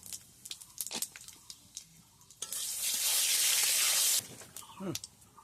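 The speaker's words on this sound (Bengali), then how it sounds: "শুকনো লঙ্কা, এবার দিলাম 5 ফোড়ন" Dried chillies and panch phoron hit hot oil with a loud, sudden sizzling hiss that lasts a couple of seconds, framed by lighter clinks and stirring in a pan.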